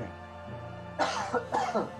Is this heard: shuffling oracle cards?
no